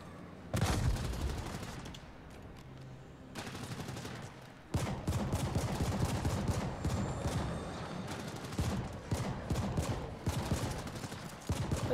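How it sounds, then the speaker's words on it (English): Gunfire from shooting in The Ascent, rapid bursts of automatic shots in clustered volleys with brief gaps between them, loud and close, running for several seconds. "Let's just keep shooting at this until it's dead"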